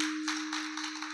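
An audience at a temple kirtan claps hard for the mridangam players. The applause is brief and dense, over a steady sustained drone.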